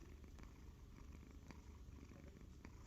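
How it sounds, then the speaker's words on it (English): A cat purrs steadily and close, a low continuous rumble with soft rhythmic pulses and no voices. "Purring away."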